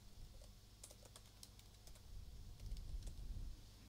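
Faint clicks of CSS code being typed on a computer keyboard, scattered irregular keystrokes over a low background rumble, with no one talking.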